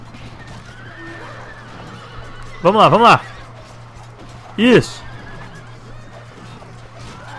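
Horses neighing amid a battle in the video game Roma Surrectum II: two loud whinnies a couple of seconds apart over a steady battle hum, with someone commentating briefly.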